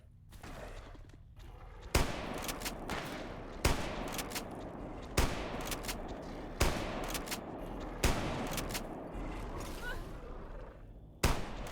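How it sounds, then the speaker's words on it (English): Gunfire in the video game STALKER: single loud gunshots crack at roughly regular intervals of about a second and a half, each with a short echoing tail, over a constant rumbling background. "Why are you shooting at me, my man?"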